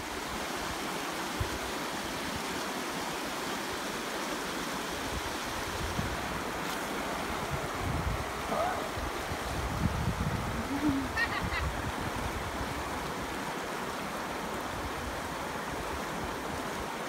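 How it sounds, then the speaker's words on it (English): Rapids of the cold glacial Eglinton River rush in a steady roaring wash, with brief splashes and faint voices rising briefly midway through the flow. "the boys braved the cold glacial waters of the Eglinton River with their bodyboards and jumped in to ride the"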